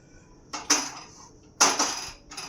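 A pot of carrot halwa comes off a kitchen stove with two sharp metallic clanks of cookware, each trailing into softer rattling scrapes, close and fairly quiet, with no talk.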